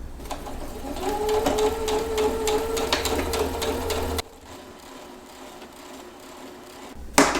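A sewing machine stitches fabric with a fast, steady mechanical chatter and a rising motor whine, close and fairly loud for about four seconds. It then stops, leaving quieter room sound and a brief handling knock at the end.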